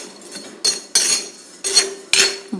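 Black gram roasts dry in an iron pan while a metal spoon stirs it, giving five loud scraping, clanking strokes close up over a quiet background, and no one speaks.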